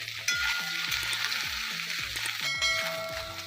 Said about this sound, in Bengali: গরম করে প্রথমে চিপড়ে জল বার করে রাখা সয়াবিনগুলো ভেজে নেব।